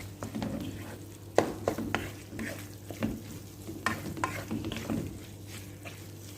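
Laham sambosa frying in a pan, a soft steady sizzle broken by irregular stirring scrapes and light clinks of utensil on pan, close and fairly quiet.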